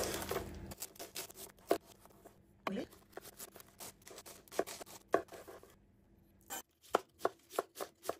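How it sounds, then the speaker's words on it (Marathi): A large cabbage cut with a knife on a board for Goan sausage and cabbage, crisp separate chops at an uneven pace with short pauses, then a faster run of sharp strokes near the end. "आमकां इतली मोठी कॅबेज कातरूंक जाय"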